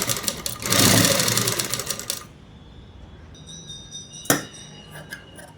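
Sewing machine stitching the neck of a blouse, a loud rapid burst of mechanical clatter for about two seconds, then stopping, followed by faint rattles and a sharp click.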